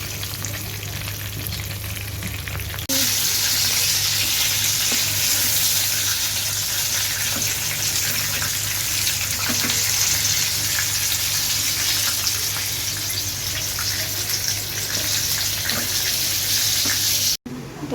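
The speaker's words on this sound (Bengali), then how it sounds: "এই চিকেনগুলো খুব সুন্দর মতো ভাজা ভাজা কিন্তু হচ্ছে।" Chicken pieces fry in hot oil in a pan with a steady, loud, continuous sizzle that runs for the whole stretch after a brief quieter moment at the start, with faint stirring clatter beneath.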